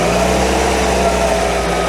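A Volkswagen engine running on only three cylinders idles steadily and loud at close range, a rough continuous hum with no talk over it.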